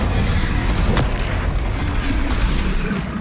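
A deep, rumbling roar of fire from the Incendio spell in Hogwarts Legacy, a dense, steady whoosh of flame with a brief crack near the start, loud and close with no speech over it.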